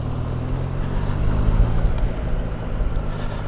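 Triumph Tiger 660 Sport motorcycle riding over cobblestones, its engine giving a steady, close, low rumble that swells slightly midway, with no talking.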